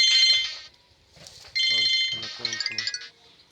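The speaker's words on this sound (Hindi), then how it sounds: "ओ फोन क्या आ गया" A phone ringtone plays a bright electronic melody in short repeating phrases, loud and close, with a brief pause partway through.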